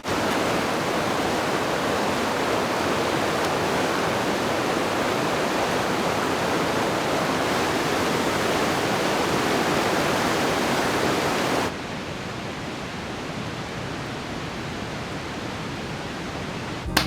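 A roaring river in the Pacific Northwest rushes in a dense, steady wash of whitewater noise, loud and close throughout, dropping slightly in level partway through but never pausing.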